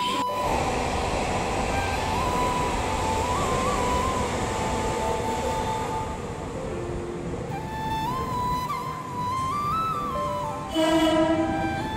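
A passenger train on the way to Ratnagiri rumbles steadily from inside a carriage, with whining tonal sounds drifting over the constant rolling noise and a brief louder surge near the end.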